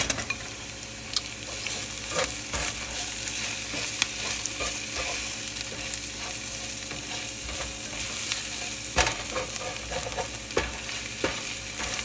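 Food cooks in a pan with a continuous close sizzle, broken by scattered scrapes and taps of stirring throughout. No one speaks.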